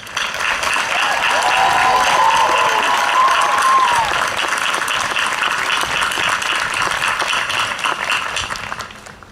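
Commencement audience applauds for faculty and staff at a 2017 undergraduate ceremony, a large crowd clapping steadily at full strength for about eight seconds before tapering off.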